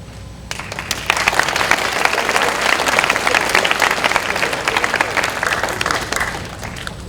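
Students clapping in a school assembly at a student council session: a dense burst of crowd applause rising quickly and holding loud and steady throughout, with no talking over it.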